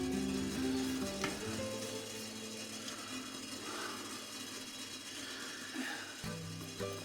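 Sesame wok oil sizzles faintly in a hot wok, a soft continuous hiss over a low hum, with a few light clicks and no speech.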